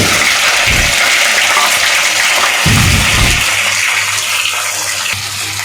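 Curry leaves, green chillies and spring onion fry in a pan for a Bangada fish curry, giving a steady loud sizzle with a few louder bursts of crackling.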